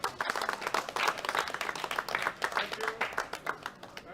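A crowd applauds deadlift medalists at a world classic powerlifting championship, junior men's 74 kg class, with steady, moderately close clapping that carries on through the whole stretch, individual claps distinct within the applause.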